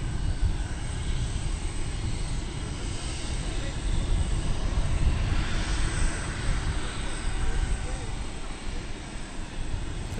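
A Qantas airliner in Yam Dreaming livery at DFW Airport gives a steady, fairly loud engine rumble and rush, holding constant for about ten seconds with no voices over it.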